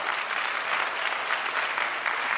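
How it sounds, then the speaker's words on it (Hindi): Vigorous, dense crowd applause welcoming the chief minister at an expo inauguration ceremony, sustained and uniform throughout without a pause. "आपके सबके प्रिय नेता माननीय मुख्यमंत्री के लिए जोरदार ताली मार के स्वागत करना है"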